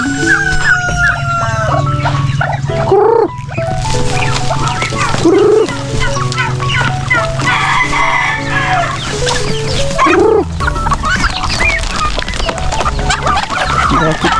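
Pet turkeys gobble repeatedly among a noisy flock of chickens and ducks, loud and close, with cackling, clucking and crowing layered over a steady background hum.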